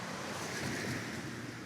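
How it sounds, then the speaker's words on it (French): Wind rustles through tree leaves beside a small playground in Athens, a faint, steady, airy wash that holds evenly throughout with no voices. "Le son du vent passe dans les feuilles des arbres."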